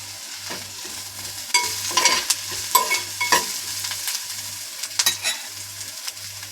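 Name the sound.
frying and stirring banana pieces in a pan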